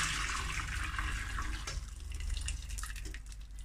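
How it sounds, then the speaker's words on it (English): Cooked small white tapioca pearls and water pour into a strainer in a kitchen, a steady rushing splash that thins out toward the end into trickling, fairly faint and close. "I've got a strainer here. I'm just gonna pour this out."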